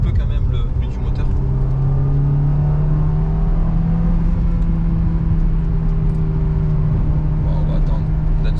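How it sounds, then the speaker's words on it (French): Steady low drone of a Honda S2000 Phase 2 sports car engine cruising, heard from inside the cabin, constant and close, with faint voices in the background. "on entendra un petit peu quand même le bruit du moteur"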